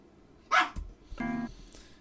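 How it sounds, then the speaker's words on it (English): A dog gives two short barks close by, the second a drawn-out, yowling bark, with a faint yip trailing after. "Stop barking."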